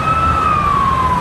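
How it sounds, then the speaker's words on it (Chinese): A fire engine siren wails loud and close as engines race to a car burning on a national highway embankment before dawn, one steady sweeping tone sliding slowly downward. "八部消防车、30名消防员紧急出动抢救"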